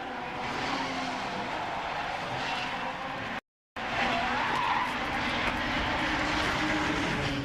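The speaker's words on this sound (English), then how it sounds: "Mark Proctor recovered from his spin, but others weren't so lucky" Race cars from the 1996 Eurocar V8 and V6 Championship roar past at Mallory Park amid skidding and engine noise, loud and continuous apart from a short dropout midway.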